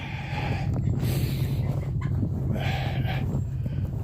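Geese and turkeys in a snowbound barn in Northwestern Ontario, faint clucking and honking calls over a steady low rumbling background.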